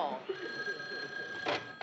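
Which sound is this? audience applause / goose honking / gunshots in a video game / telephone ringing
telephone ringing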